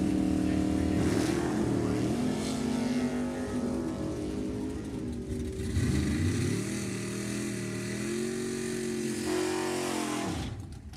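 Drag race run at a twin-tens event including Tom Marchesano's 1969 Camaro, with loud sustained engine roars that rise and shift pitch continuously, then drop away sharply near the end.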